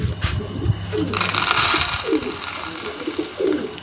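Fancy Lahori pigeons at feeding time give soft, repeated throaty coos close by, several separate calls over a background rustle and clatter.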